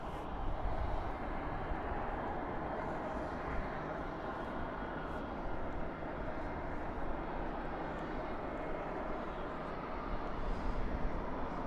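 An airliner engine roaring steadily at Dallas/Fort Worth International Airport at night, a broad, even rumble held at constant distance without a break.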